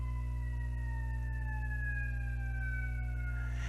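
An ambulance siren in the city wails at a distance, a thin steady tone gliding slowly downward, faint over a strong low electrical hum with no voices.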